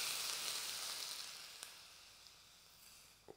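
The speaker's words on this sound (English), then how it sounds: "Got to get that sizzle in." Smoking hot oil poured over garlic and spring onion for biang biang noodles, giving a fading hiss of frying that starts fairly strong and tapers off, with a few faint clicks toward the end and no talking.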